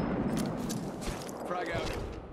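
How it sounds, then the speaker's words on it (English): Gunfire in the Apex Legends video game comes as a rapid volley of sharp shots. It sounds somewhat muffled and mixed with game noise, and a voice talks over part of it. "Getting shot at."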